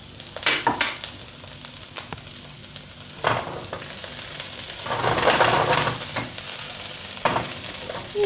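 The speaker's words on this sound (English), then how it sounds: "wok's hot. I'm going to go in with the onions" Onions dropped into a hot wok sizzle and fry, with bursts of scraping and stirring against the metal that rise and fall in waves. The sound is close and loud, and no one speaks.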